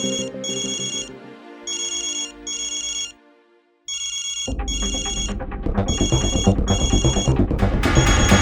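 A phone ringtone repeats in short regular bursts, pauses briefly, then resumes over a louder, busier musical tone that builds toward the end, with no talking.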